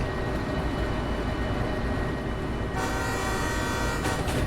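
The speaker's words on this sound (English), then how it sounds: "Honk, just to let anyone know that we are approaching." Train horn in the Derail Valley railway simulator game sounds a sustained toot partway through, steady and fairly loud over the constant rumble of the locomotive.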